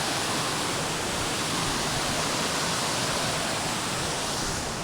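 The Kurichiyar Mala waterfall in Wayanad, carrying plenty of water, pours with a steady, loud, broadband roar that holds constant throughout, with no voices.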